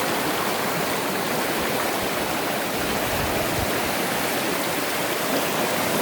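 A swollen river running high and fast after rising well over its usual banks, giving a loud, steady, close-up rush of churning water with no break and no voices.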